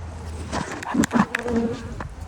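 Honey bees buzz close around an open hive, a dense, wavering drone with individual insects passing near, and some wind noise in the background.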